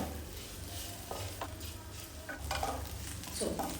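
Cooked ingredients get stirred together in a pan, with a low background sizzle broken by scraping strokes and light clinks of a spoon against the metal, quiet and close.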